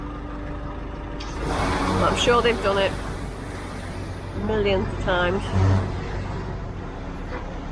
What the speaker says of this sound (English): Feels a bit sketchy getting towed along by a tractor.